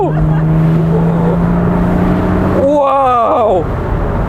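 A Porsche with a rebuilt engine revs hard with a steady loud drone, then pitches up through a quick rising whine as it shifts and accelerates, with a voice speaking briefly over it.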